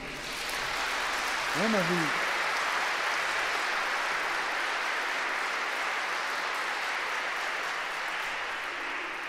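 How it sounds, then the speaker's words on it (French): Applause from a large audience at a talk in Montreal, a steady wash of many hands held throughout, with a brief spoken phrase from the stage early on. "elle entend ma voix et vos applaudissements aussi"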